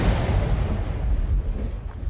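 A generator blows up in the Dead by Daylight video game with a loud, rumbling blast that stays heavy and low for about two seconds.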